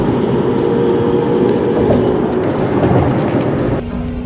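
A 1985 Lamborghini Jalpa's engine sounds from inside the cabin as a loud, steady broadband roar and drone, easing slightly in level near the end.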